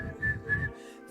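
A person whistles a bright melody with pursed lips over a band playing a song, the whistled notes rising clearly above the accompaniment before fading out.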